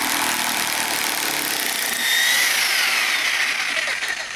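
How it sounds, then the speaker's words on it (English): A Kobalt 1/2-inch corded 8-amp electric impact wrench drives a large lag bolt, giving a steady loud whirring hammer sound that rises in pitch and intensity partway through, with no talking. "if you have the Kobalt corded impact wrench, you can pop it right on there and remove or install these lag bolts very easily"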